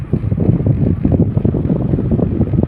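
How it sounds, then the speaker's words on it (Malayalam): A 100-seat passenger boat cruising on the river between Valapattanam and Parassinikkadavu in Kannur, with a steady, loud low engine rumble and wind buffeting the microphone throughout, no voices. "100 പേർക്ക് ഇരിക്കാവുന്ന യാത്രാ ബോട്ട് ആണിത്"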